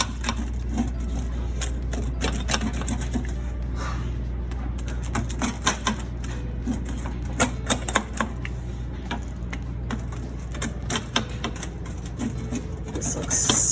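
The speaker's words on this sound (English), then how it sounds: "let's grab my pizza cutter" A pizza cutter rolls through a freshly baked homemade pizza, making repeated crisp clicking and crunching strokes close by over a steady low hum, with no talking.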